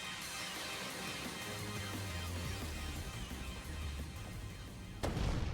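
A Thunderbolt attack in Pokémon Legends: Z-A: a sustained crackling electric burst that ends in a sharp loud crack, with no talking.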